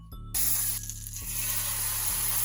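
Vegan French toast fries in a pan, a loud steady sizzle rising sharply early on and holding at a bright crackling hiss, with a low repeating hum underneath.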